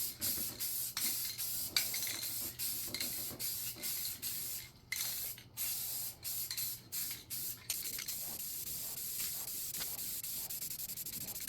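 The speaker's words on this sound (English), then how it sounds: "I'm going to go ahead and primer it first with some Rust-Oleum spray paint." Rust-Oleum spray paint primer hisses from a nearby aerosol can onto an old wooden grandfather clock cabinet, in a steady run of short and long bursts with brief gaps, each spray close and fairly loud.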